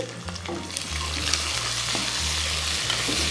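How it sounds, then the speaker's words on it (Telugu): Thinly sliced onions fry in a pan with a constant crackling sizzle, punctuated by light stirring clicks, close and steady throughout, with no voices. "ఇప్పుడు సన్నగా తరుక్కున్న ఉల్లిపాయలు అలాగే ఇవి కొంచెం వేగుతూ ఉంటాయి"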